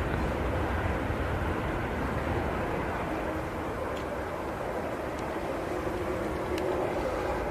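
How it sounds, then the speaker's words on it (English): A Sun Express airliner taking off at Manchester Airport, its jet engines a loud, steady, broadband roar that holds throughout at a moderate distance, with no speech. "Using a lot of runway, the Sun Express. But there we go, finally rotating."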